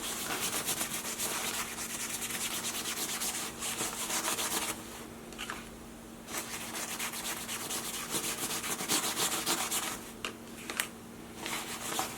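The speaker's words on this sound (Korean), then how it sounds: "이렇게 이제 문질러 줄때 어, 가급적이, 가급적이면은 예, 부드러운 이런 솔 이런 걸로 해줘야 되고" Steady rasping scrubbing strokes of a soft brush on a down-filled padded winter jacket, close and continuous, with a few brief pauses.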